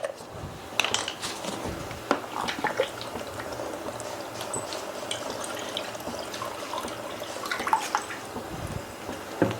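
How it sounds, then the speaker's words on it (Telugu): Half a cup of water is poured over sugar in a bowl for Madugula halwa, a continuous splashing trickle with occasional clinks lasting several seconds, no voices. "అరకప్పు వాటర్ వేసుకోవాలి"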